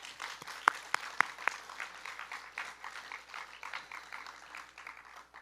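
A few loud, sharp claps ring out near the start, then a quieter spread of audience applause continues, moderately distant and thinning toward the end.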